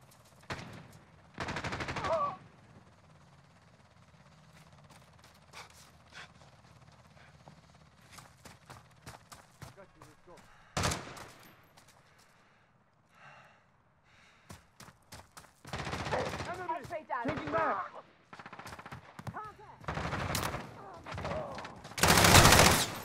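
Gunfire in Call of Duty Modern Warfare multiplayer team deathmatch against bots: scattered loud bursts of automatic fire and single shots separated by quieter stretches, with intense, near firing clustered toward the end and brief voice callouts between.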